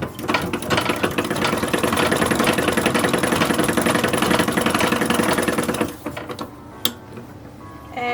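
An antique 1870s sewing machine stitches sleeves of a wool doll dress, whirring in a fast, steady mechanical rhythm for about six seconds before stopping, leaving quieter room sound with a single click.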